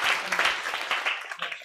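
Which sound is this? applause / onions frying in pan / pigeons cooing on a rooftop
applause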